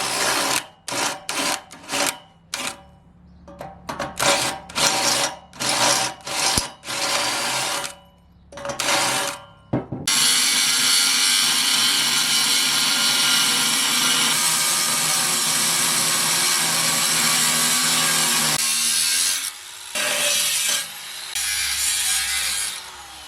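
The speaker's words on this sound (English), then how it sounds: "just cut the rest of this out with good old freaking death wheel" A cut-off wheel cuts through an exhaust pipe during an electric exhaust cutout install. First comes a run of sharp, stuttering grinding bursts, then a long, loud, continuous high-pitched screech of the disc biting metal close by.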